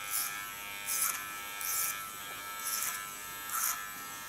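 An electric hair clipper buzzes steadily and close during a haircut, its hum swelling in short regular pulses as it passes through the hair, with no talking.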